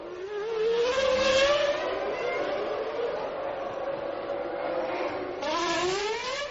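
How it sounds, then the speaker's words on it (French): A 1998 Formula 1 race car at the Monaco Grand Prix screams past with high-pitched engine whine rising and falling through gear changes, a second surge near the end, loud and close with no commentary over it. "Dernier tour pour le vainqueur du Grand Prix de Monaco, Mika Häkkinen"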